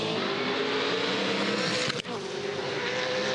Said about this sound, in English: Big 6-litre Ford's going to work.